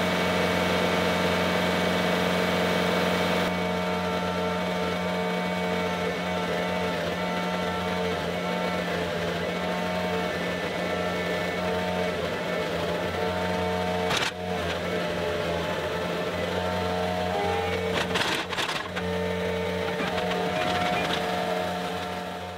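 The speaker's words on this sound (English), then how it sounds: "it felt like I could have powered this auger right through a lot quicker than I did" An auger attachment bores into soft clay while setting bridge piers, giving a loud, steady mechanical engine drone throughout, with a few brief clunks and rattles partway through.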